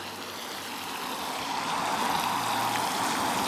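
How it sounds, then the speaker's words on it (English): Garden hose spraying water onto a concrete slab in a garage, a steady broadband hiss that grows slightly louder partway through, with no talk. "I'm not just leaving the hose on here and hoping for the best"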